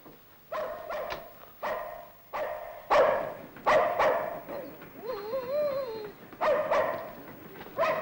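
A female dog barks repeatedly indoors, sharp loud yaps in irregular bursts, with a brief whining whimper in the middle; no talk over it.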